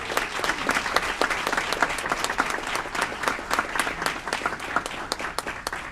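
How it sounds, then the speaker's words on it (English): Steady applause fills a City of Aurora council meeting as the audience claps for a retiring Water and Sewer Department employee, dense overlapping claps at an even level throughout with no talking. "please give a round of applause for Lori Faust."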